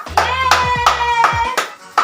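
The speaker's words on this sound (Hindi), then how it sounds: "ताली मारो।" Hands clap in a steady rhythm of about four sharp, close claps at a cake-cutting celebration, with a tonal musical chime running underneath.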